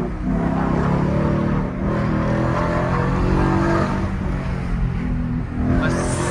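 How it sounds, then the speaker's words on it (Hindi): Ford Mustang driven in sports mode, its exhaust giving a loud, continuous engine roar that rises and falls slightly as it revs, heard up close with no speech. "एग्जॉस्ट की साउंड भी गाइस अलग ही लेवल की हो जाती है जब स्पोर्ट्स में"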